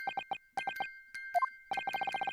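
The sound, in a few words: music box chiming, from the video game The Great Ace Attorney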